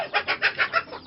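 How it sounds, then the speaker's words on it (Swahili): Indigenous kienyeji chickens on a poultry farm in Kerarapon, Kajiado County, give a run of about six rhythmic clucks at close range, fairly soft, with no talking. "Kienyeji hii unaona hapa, hizi kuku unaona, zina kazi rahisi sana"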